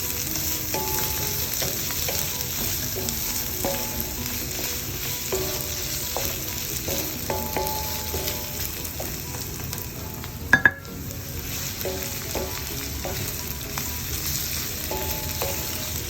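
Chicken pieces fry over high heat in a pan, giving a constant dense sizzle with repeated scraping and clacking of a utensil stirring them, plus one sharp knock near the end.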